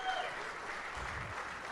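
Audience applause at the 2017 WAAC auctioneer championship opening, honoring a past champion auctioneer, a soft continuous patter of clapping at low level with a faint voice briefly in it.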